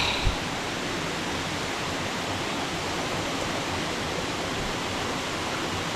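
Water rushes through a forest irrigation channel in a dense, unbroken hiss. The level stays steady throughout, with one small knock at the start.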